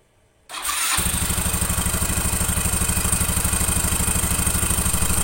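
A Yamaha NMAX scooter engine fires up after a throttle body service and settles into a steady, even idle, its rapid low putter close and continuous with no voices.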